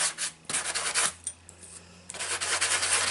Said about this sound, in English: I'm going to go ahead and sand the back as well while I have it out